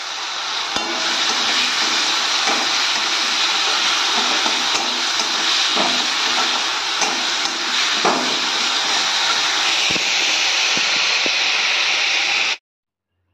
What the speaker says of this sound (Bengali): তো চলো মাছগুলো ভাজা করে নিই।